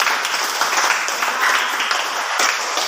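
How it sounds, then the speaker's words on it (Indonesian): A class of students gives applause for a classmate after a poetry reading, a steady wash of clapping held at even loudness for a few seconds with little talk. "tepuk tangan buat si ladies"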